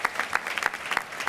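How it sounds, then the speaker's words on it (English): Applause from a gala audience at a conference awards event, a brief burst of dense clapping from a crowd at moderate level. "So you guys should really give yourself an applause for that."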